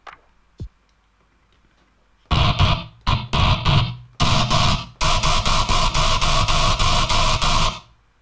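A harsh, noisy wavetable synth tone for Minatory-style dubstep, distorted and compressed, hits in loud, choppy stuttering bursts that settle into a rapid, rhythmic pulsing sequence after a quiet start with a faint click.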